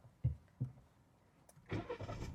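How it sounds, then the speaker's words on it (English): A car engine starts: two dull thumps come first, then the motor catches and settles into a steady mid-pitched running sound, heard fairly close. "when you start the car"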